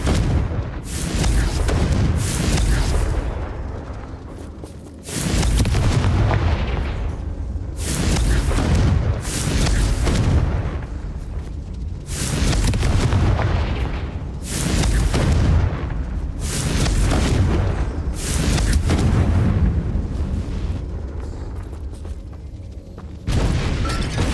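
The Confringo spell sets off repeated booming explosions in the Hogwarts Legacy video game. A dozen or so heavy blasts land in an irregular rhythm, each rumbling and decaying before the next, loud and continuous with no talking.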